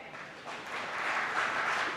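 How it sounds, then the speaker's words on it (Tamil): An audience at a humour club programme claps steadily, a soft, dense wash of applause that swells slightly toward the end with no voices over it. "உண்மைனா கைத்தட்டுங்க"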